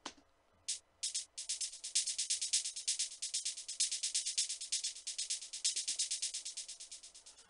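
A hi-hat run through FL Studio's Fruity Delay 2 ticks in a fast, steady stream of crisp hits, each echo repeating and gradually fading toward the end; fairly quiet, with no voices.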